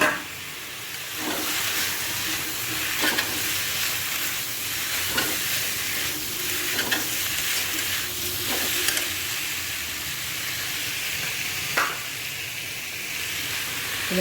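Potatoes with salt and turmeric sizzle steadily in a hot pan. Occasional spatula scrapes and clicks from stirring break through the constant frying hiss, with no voices.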